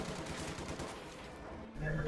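Machine gun bursts in a Company of Heroes 2 battle, a quiet rapid crackle of distant automatic fire with a brief louder thud near the end.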